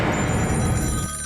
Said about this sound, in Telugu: ఫోన్ చేస్తున్నాడు.